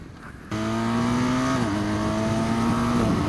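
A 2018 BMW R1200 GS motorcycle starts abruptly, accelerating hard, its engine note climbing steadily then dipping briefly at quick-shifter upshifts, loud and close, with no voices.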